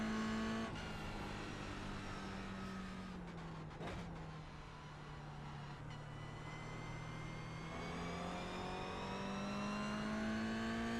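A Toyota GR86 engine drones steadily from inside the car while driving the wet Mount Panorama circuit, its pitch sagging and climbing through gear changes and throttle lifts, with brief clunks of shifts and no talk.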